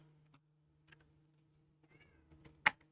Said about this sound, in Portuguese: E agora vai ficar miando ali.